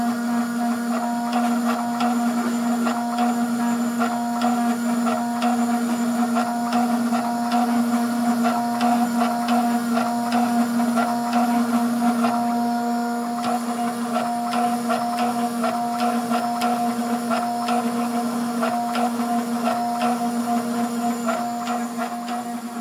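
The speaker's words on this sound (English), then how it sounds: "now I can press start and it'll start to engrave" Vision Max Pro engraving machine running steadily, a continuous mechanical whir with a strong steady hum and faint rhythmic ticking, loud and close with no talk.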